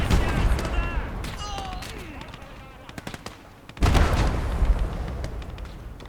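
Submachine gun fire in the Gates of Hell war game rattles in rapid bursts amid a dense urban battle, with distant shots, whistling rounds and a loud surge of gunfire and booms midway.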